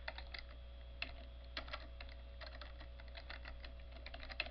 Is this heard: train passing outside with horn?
no